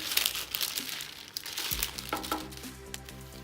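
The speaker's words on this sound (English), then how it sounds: "Now we're just going to use our greaseproof paper, our parchment paper, and a rolling pin," A rolling pin rolls keto pizza dough out between sheets of parchment paper, making close crinkling and rustling of the paper with soft scraping passes. It ends in a brief low thump and a few light clicks.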